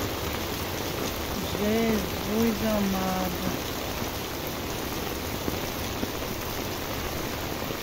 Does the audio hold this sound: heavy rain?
yes